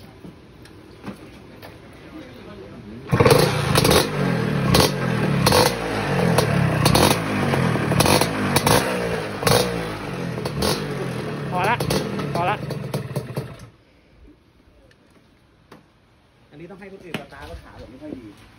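A Lambretta drag-racing scooter two-stroke engine revs hard and loud nearby for about ten seconds, with choppy repeated blips and rising pitch, then cuts out; people talk quietly before and after.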